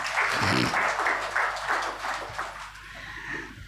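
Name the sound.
congregation clapping hands to glorify the Lord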